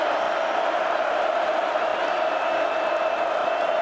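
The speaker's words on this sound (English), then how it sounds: "This crowd's getting into the game." A large football stadium crowd at a Northwestern at Nebraska college game roars in a steady, continuous wash of cheering noise that never lets up.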